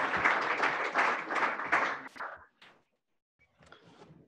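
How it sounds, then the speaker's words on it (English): An audience at a startup showcase claps after a pitch, a dense burst of applause that thins out and stops, followed by a brief quiet and a few scattered sounds. "Let's give her a round of applause."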